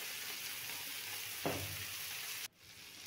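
Eggplant drops into a pan of fried spices for a dry prawn curry, setting off a louder burst of sizzle over the steady frying hiss before the sound abruptly cuts out; no one speaks.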